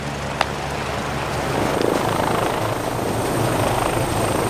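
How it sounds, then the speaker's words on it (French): A helicopter's rotor and engine drone steadily nearby, a continuous throbbing whir that holds loud throughout with no voices over it. "Ed, l'hélicoptère vous attend."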